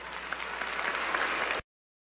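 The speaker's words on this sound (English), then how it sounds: "I hate that the BET audience there didn't give as many claps for that powerful political statement" The audience at a BET event applauds, a dense, steady wash of many hands clapping at moderate distance for about a second and a half before cutting off sharply into silence.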